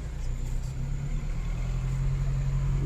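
A Jeep Compass towed through flood water, a steady low engine drone and rumble that holds constant and close throughout, with no talking.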